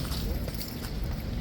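Horse hooves clip-clopping near a King's Horse Guard post in a crowded tourist setting, a faint rhythmic clatter of several steps under background crowd noise.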